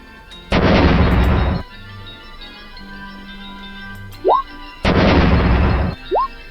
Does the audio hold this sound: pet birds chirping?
no